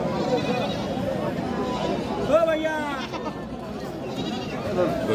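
Goats bleat in short wavering cries amid a busy background of people chatting nearby.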